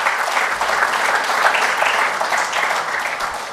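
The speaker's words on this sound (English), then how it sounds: "you guys also deserve a big round of applause for 2 days of fantastic effort" An audience at an information management conclave breaks into sustained applause, a steady wash of many hands clapping at moderate distance with no break or speech over it.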